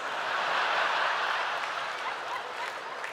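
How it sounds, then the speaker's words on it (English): An audience at a Randy Feltface comedy show applauds in a steady, dense wash of clapping that holds loud throughout, easing only slightly toward the end. "You're applauding, but it's unprofessional in my opinion."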